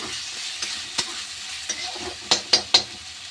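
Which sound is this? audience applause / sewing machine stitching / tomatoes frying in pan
tomatoes frying in pan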